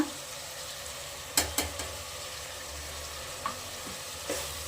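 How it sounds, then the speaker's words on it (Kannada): Spice powders and green chillies frying in oil in a pan, a soft steady sizzle with a few brief louder clinks of stirring, close and without talk. "ಹಾಕ್ಕೊಂಡು ಚೆನ್ನಾಗಿ ಫ್ರೈ ಮಾಡಿಬಿಟ್ಟು ಗಮ್ ಅಂತ ಸ್ಮೆಲ್ ಬರ್ತಾ ಇರುತ್ತೆ"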